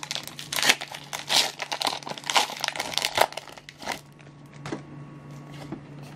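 A Pokemon card booster pack wrapper is torn open up close, with dense crinkling and ripping bursts that continue for several seconds before easing into softer rustles.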